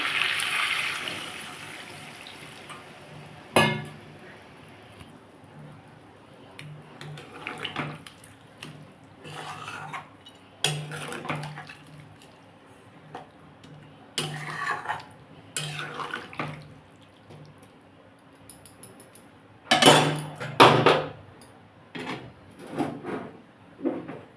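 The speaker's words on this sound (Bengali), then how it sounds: "একটু জল দেবো" Water is poured from a tap and sloshed into a pot of country chicken curry, with intermittent splashes, clanks of pots and dishes, and quiet gaps between bursts.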